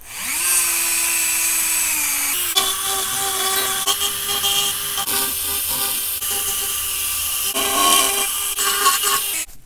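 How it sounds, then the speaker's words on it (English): A Dremel flex shaft rotary tool runs at low speed, cleaning out cut marks; a steady high whine starts alone, then shifts pitch and grinds on with uneven loading for the rest of the clip, close and loud. "We'll turn this thing on, probably on slow, and just start kind of cleaning out some of the cut marks that are in there."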